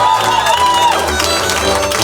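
An audience gives loud applause and cheers for a cimbalom band at a concert, a dense close clapping wash mixed with whoops, and a voice speaks over it.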